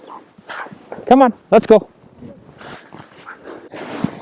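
Sled dogs on a trail bark and yip in short bursts, with a whine mixed in, close by, while a musher speaks over and between the calls.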